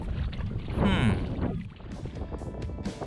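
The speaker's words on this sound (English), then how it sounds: "we're paddling against the waves on a windy day" Kayak paddles splash through choppy water against waves on a windy day in Sai Kung, Hong Kong, while wind buffets the microphone, a steady rush of water and gusts with no voices.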